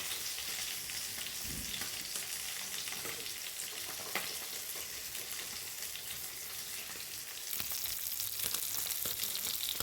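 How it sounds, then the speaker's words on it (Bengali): Spice masala sautéing in a pan, an even, continuous sizzle with occasional soft stirring scrapes, growing slightly louder toward the end. "দেখতে দেখতে আমার কষানো হয়ে গিয়েছে মশলাটা"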